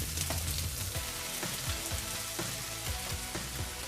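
Onions frying in a hot pan with oil, a steady, moderately quiet sizzle with soft intermittent crackles and light stirring taps throughout.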